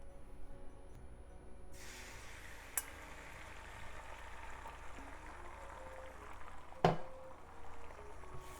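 Quiet sizzling of scrambled egg frying in vegetable oil in a pan, a soft steady crackle with a couple of brief clinks, no talking.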